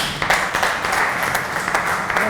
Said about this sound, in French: de l'applaudir bien fort.